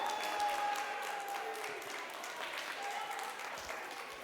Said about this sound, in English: If you like food, I just need you to clap.